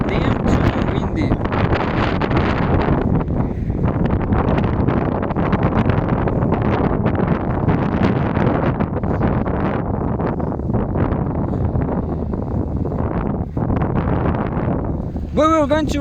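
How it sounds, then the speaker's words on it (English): Strong wind buffets an outdoor microphone in a continuous loud roar for the whole stretch, with a person talking underneath. "Damn too windy now. Damn too windy."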